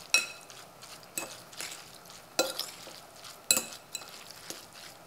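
Crushed garlic being stirred into olive oil with a utensil in a small dish, a series of soft scrapes and light clinks spaced about a second apart, close and quiet with no talking.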